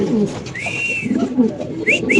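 Soft, low coos of red Lahori pigeons repeat close by, with a few brief higher whistly bird calls mixed in.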